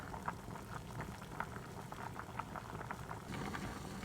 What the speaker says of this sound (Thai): ให้เขาต้มไปประมาณสองนาทีในน้ำเดือดๆอย่างนี้เลยนะคะ